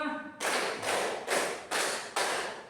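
Five loud, evenly spaced hand claps from a classroom of students doing an ice-breaking clap game, each a sharp broadband burst following a short spoken cue.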